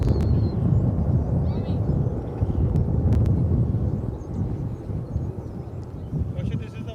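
A Qatar Airways airliner on the Doha route at Dallas Fort Worth airport, a steady low jet rumble that swells and then gradually fades, with talking over it and brief bursts of wind noise.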